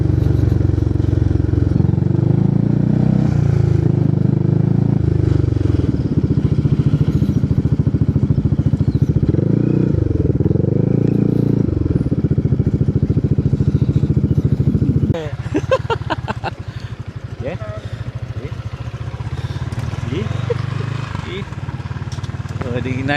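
A Honda Forza scooter engine upgraded to 330cc with a 77mm piston runs nearby with a rough, throbbing rumble that swells and settles, joined later by clattering and background noise.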